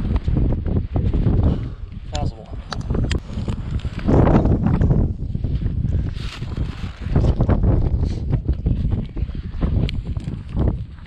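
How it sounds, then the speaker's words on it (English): Wind buffets the microphone on a rocky mountain ridge top, a loud, continuous low rumble with gusty surges throughout. "A little bit more out of the wind."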